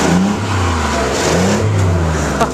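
A snow plow truck's engine revs after a cold start, producing a loud, rough, continuous rumble that rises and falls in pitch as the throttle is worked.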